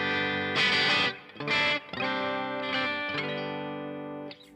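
A Glarry GTL semi-hollow Telecaster-style electric guitar plays several sustained chords through a slight Bluesbreaker-style overdrive, each strum ringing out and decaying, close and fairly loud.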